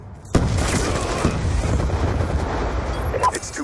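A Hellstorm missile blasts in a Call of Duty match: a sharp, loud impact followed by a long, dense rumbling roar that holds steady and fills the moment, with a few crackling bursts near the end.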